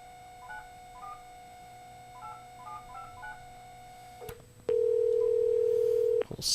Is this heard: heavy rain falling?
no